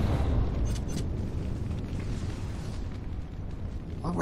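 Fiery spell explosions in the PC game Dragon Age: Origins burst as deep rumbling booms and crackles, one loud at the start, then a sustained churning roar with further faint pops and a final burst, with no talk.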